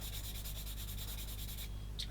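Steady rhythmic rubbing of sandpaper on a hard plastic card piece for a Takom 1/16 scale US Jeep model kit, quick back-and-forth strokes repeating evenly and close by.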